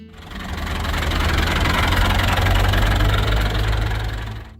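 A Massey Ferguson 135 tractor engine runs steadily at a low, rumbling idle with a faint knocking chug, loud and close throughout.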